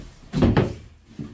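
A door swings open or shut indoors, a short wooden thud-and-creak burst followed by a quieter knock a moment later, close by with no talking.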